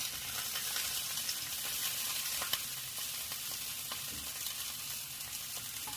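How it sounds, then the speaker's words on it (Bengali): Ginger-carp fish, a traditional Bengali recipe, frying in a pan with a steady close sizzle and occasional soft clicks of stirring, heard alone without any talk. "এই যে ভাজা হচ্ছে"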